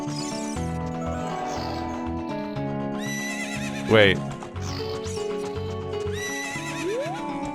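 A horse from Zelda: Ocarina of Time whinnies once, a bright rising neigh in the middle, with clip-clopping hooves set in game music and a single brief spoken word.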